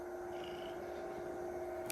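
A pet cat named Suri purrs steadily and softly up close, a continuous low rumbling hum with no break and no talking over it.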